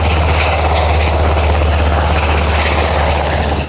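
A toy helicopter's steady, loud whirring drone of small rotor blades runs unbroken from start to finish, close by.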